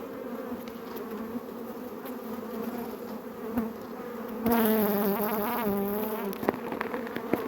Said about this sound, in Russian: Тут побільше бачу пчелок.